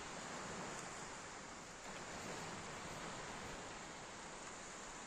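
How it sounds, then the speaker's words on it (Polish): Gentle sea surf on a calm Baltic beach near sunrise, heard as a steady, broad wash of waves rolling in without a break and with no voices. "Morze."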